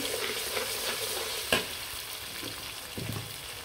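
Garlic dropped into hot oil for rice pilaf sizzles steadily, with a stirring scrape and a brief clatter partway through, close and fairly loud with no talking.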